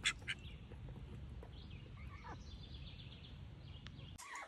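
Pet ducks quack in a few faint, scattered calls, loudest at the very start, over a quiet outdoor background.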